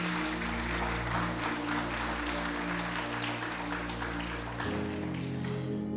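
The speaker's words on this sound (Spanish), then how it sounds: "¿Cuánto le dan un aplauso a ellos?" A church congregation applauds the newly baptized at a Sunday worship and baptism service, with steady clapping from the whole room over a sustained organ or keyboard chord that shifts pitch near the end.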